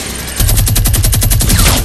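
Rapid automatic gunfire in Fortnite Battle Royale, a loud, steady run of close shots in fast even rhythm lasting under two seconds.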